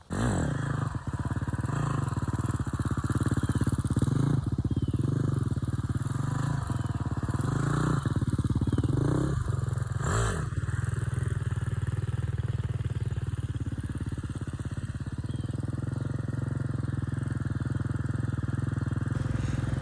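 A 250 dirt bike engine revs hard through a wheelie, the throttle rising and easing in repeated surges over a loud, continuous motor roar, close up, with no voices.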